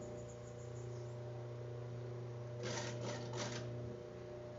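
An overlock sewing machine stitches bikini fabric in a short, rapid burst of buzzing stitches over a low, steady motor hum, close and quiet, with no talking.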